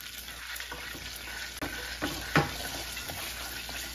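Ginger garlic paste hits hot oil in a pan for chicken kofta curry, giving a steady close sizzle and frying crackle with a few soft stirring knocks, no talking.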